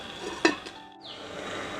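A lid set down onto a pot of Bengali dudh potol curry, giving one sharp metallic clink near the start, followed by a brief hush and then the steady low sizzle of the simmering vegetables.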